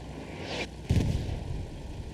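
Artillery explosions in the Hell Let Loose World War II game, with one deep, loud boom landing about a second in, preceded by a softer burst and followed by a rumbling tail over steady battlefield noise.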